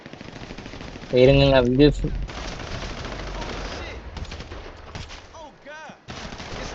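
Gunfire in the video game GTA 5 rattles loud and close in a dense burst near the start, with further shots and game noise continuing beneath people talking.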